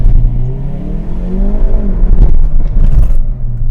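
A Hyundai i30N (2022) engine revs high and holds on launch control, then surges into a loud, rough acceleration with scraping, rumbling tones close by.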